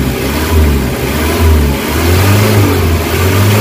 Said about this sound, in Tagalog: Kita mo yung galit ng makina